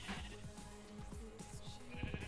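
Several short sheep bleats in the block-building game Minecraft, quiet and overlapping over a busy background of game sounds, with no talking.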